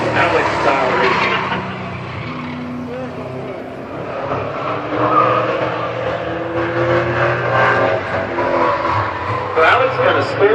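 Stock car racing at a practice session, with engines roaring on the track and rising and falling as cars pass, partly under talk.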